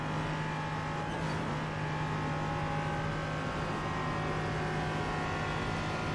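Race cars in a sim racing game finishing their laps at the Nürburgring, a steady engine drone that holds at the same level with no pauses and no voices.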